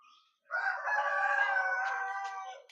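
A rooster crows in one long, loud, drawn-out call, with a few faint clucks before it.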